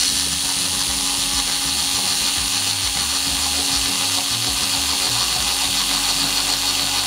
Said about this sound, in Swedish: Så nu ska vi se om det går att borra enkelt där, smidigt.